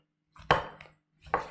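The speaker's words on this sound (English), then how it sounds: "Chopping that up." Two short chopping strokes on a kitchen board, a firm knife hit followed by a second about a second later, close and fairly quiet with no talking.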